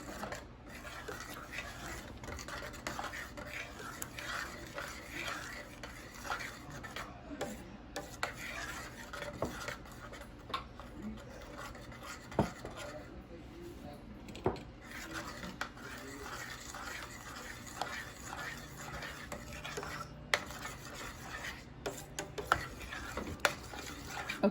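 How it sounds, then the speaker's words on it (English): A spoon stirs vanilla into cornmeal porridge in a pot, with soft continuous scraping and occasional faint clinks against the metal, close and quiet, with no talking. "And then you're gonna stir that in."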